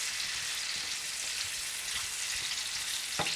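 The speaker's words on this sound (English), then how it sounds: "I'm going to pour the plantains into the pan and turn down the heat to medium." Ripe plantains sauté in melted butter in a pan, giving a steady, close hissing sizzle with a brief scrape near the end.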